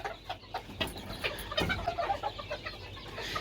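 Serama hens peck at kitchen scraps and cluck in short, close, irregular bursts, with soft pecking clicks and scratching among them.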